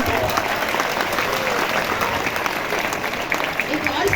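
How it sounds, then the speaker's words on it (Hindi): An audience at a school annual day claps in steady, dense applause throughout, close and sustained. "एक बार इन परियों के लिए ताली बजाओ।"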